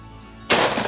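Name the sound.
shotgun shot at sporting clays target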